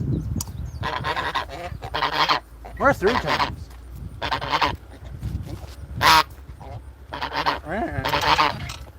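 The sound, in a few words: geese honking while begging for food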